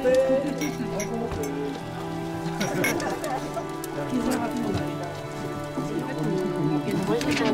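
Rain patters on a yurt in the Jura, a dense and steady drumming of drops on the roof that continues throughout, fairly close, with a voice speaking softly beneath it.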